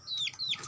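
A chicken giving short, close clucking calls in a home setting, a few brief chirpy notes in quick succession with no talking over them.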